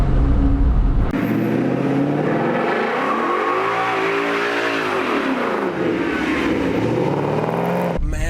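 A V8 car accelerates hard, its engine roaring loud and rising steadily in pitch over several seconds with no one speaking.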